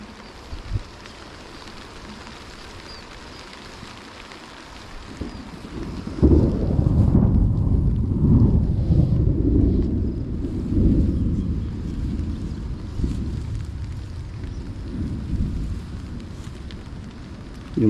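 A sudden heavy tropical downpour, with thunder, strikes a cucumber field during harvest, swelling after a quieter start into a loud, dense, steady roar with gusty wind buffeting the microphone.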